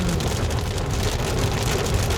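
Heavy rain pounds steadily on a car driving home through a rural downpour, a dense, loud, unbroken hiss and patter with no voices.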